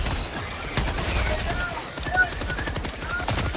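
Rapid bursts of gunfire in the video game Helldivers 2, dense and continuous across the stretch with sharper cracks and booms mixed in, over game music and effects while players talk.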